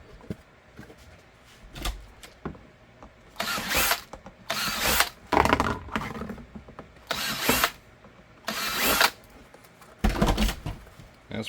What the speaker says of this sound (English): I'll drill this, and then we'll get it to where we need it